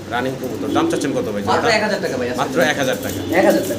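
A pair of German Beauty Homer pigeons coo in repeated soft, throaty rolls close by, while someone talks over them throughout.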